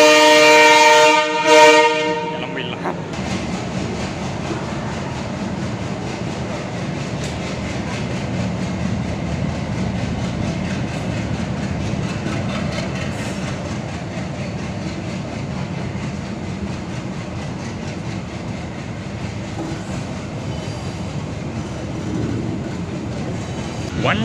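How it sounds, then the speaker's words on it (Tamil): A train on the Punalur-Sengottai hill rail route between Kerala and Tamil Nadu, heard from inside a coach as a steady rumble and rattle of wheels on track, preceded by a short horn blast at the start. "ட்ரெயின் புனலூர்லேருந்து கிளம்பியிருக்கு"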